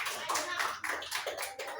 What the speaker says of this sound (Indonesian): Tepuk tangan buat Manda.